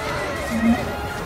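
A horse whinnies briefly amid a cavalry battle in Total War: Three Kingdoms, one short neigh rising over a dense background of combat noise.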